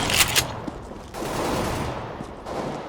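Gunfire in Counter-Strike: Global Offensive, a few sharp close shots at the start followed by a noisy stretch of rattling, muffled bursts of fire with short breaks.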